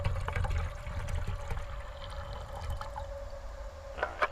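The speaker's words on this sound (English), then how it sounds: "I'm going to take my canteen, and I'm just going to add this water to boil the rice." Water poured from a canteen into a camping mess kit to boil rice beside a multi-fuel stove, a steady close trickle that runs for several seconds and then tapers off, with no talking.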